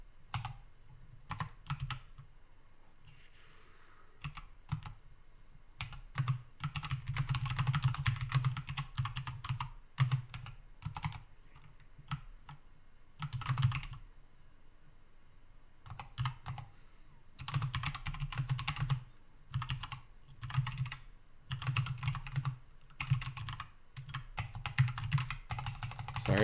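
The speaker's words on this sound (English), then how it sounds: "Sorry about my typing." Bursts of typing on a computer keyboard, rapid clicking clatter in irregular runs separated by short pauses, close and fairly quiet, with no talk.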